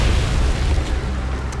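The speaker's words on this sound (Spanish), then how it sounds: "Esa explosión." An explosion in the video game Sonic Omens rolls out as a continuous, loud, noisy roar that rumbles steadily for under two seconds with no clear fading tail.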